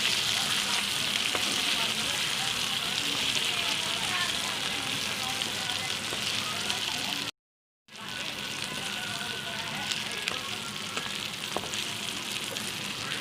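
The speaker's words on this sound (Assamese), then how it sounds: "মই চিকেনখিনি এতিয়া কেৰাহীত দি দিছোঁ। আৰু অলপ লৰাই দিছোঁ।" Chicken sizzles and crackles loudly in a hot oil-filled karahi, a dense, continuous frying hiss with scraping from stirring, broken by one brief silent gap partway through.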